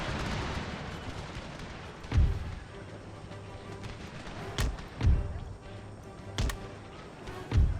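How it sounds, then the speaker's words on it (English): Musket volleys fire in the video game Empire: Total War. Several dull, booming shots sound at irregular intervals over a rumbling battlefield background, with loud thumps at a moderate distance. "they're shooting each other here"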